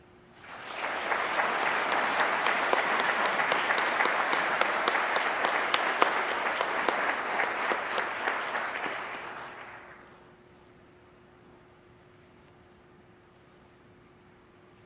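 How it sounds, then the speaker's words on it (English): An audience at a police recruit class graduation ceremony breaks into sustained applause for about nine seconds, steady and full, then cuts off to a quiet room hum. "How about another round of applause for Officer Skelton?"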